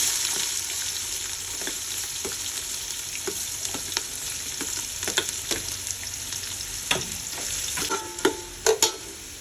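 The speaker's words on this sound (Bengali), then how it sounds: "তো এটাকে এখন আমি মোটামুটি কষিয়ে নেব।" Chopped onion and whole green chillies sautéing in a pot for pudina chicken biryani give a steady close sizzle, with occasional spoon scrapes and a few louder knocks near the end.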